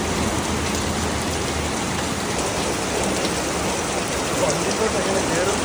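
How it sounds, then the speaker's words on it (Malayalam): Heavy rain pours down in a dense, unbroken roar, steady and loud throughout. "നിങ്ങൾ കണ്ടല്ലോ അതുപോലത്തെ മഴയായിരുന്നു രണ്ട് ദിവസം"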